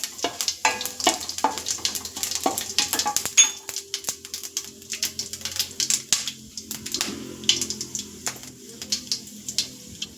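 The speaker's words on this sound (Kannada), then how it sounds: "ನೆಕ್ಸ್ಟು ನಾನಿಲ್ಲಿ 2 ಬ್ಯಾಡಗಿ ಮೆಣಸಿನ್ಕಾಯಿಯನ್ನು ಹಾಕೋತಾ ಇದ್ದೀನಿ." Two Byadagi dried red chillies and mustard seeds sizzle in hot oil for a South Indian rasam, giving a steady, close crackle with quick popping and spattering ticks throughout and no talk.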